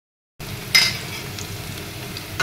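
Onions drop into hot oil with whole cumin in a pan and set off a soft, continuous sizzle. A brief clatter of stirring is heard near the start, and a faint utensil tap comes at the end.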